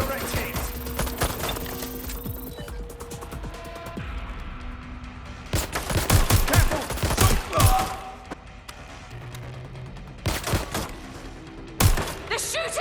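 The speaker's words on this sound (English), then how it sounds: "They're shooting!" Gunfire in the video game Watch Dogs: Legion, bursts of rapid shots and heavy impacts in clusters, loud and close, with quieter stretches and game sounds between.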